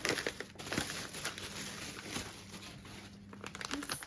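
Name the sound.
cutting open a delivery package while unboxing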